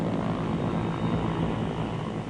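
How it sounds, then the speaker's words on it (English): A Dakota propeller plane takes off, its engines giving a loud, steady droning roar that fills the whole stretch without pause, with no voices. "a Dakota took off for Hanoi"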